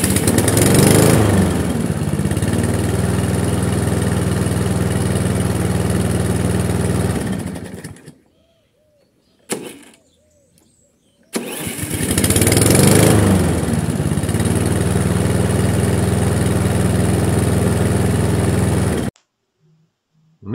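A Briggs & Stratton InStart lawn mower engine starts up and runs loud and close, cutting out briefly before firing again into a steady roar and then stopping.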